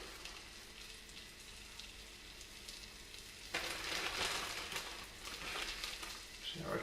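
Panko and parmesan crumbed fish fillets hitting butter in a hot fry pan, a soft hiss that jumps to a brighter, louder sizzle partway through and keeps crackling.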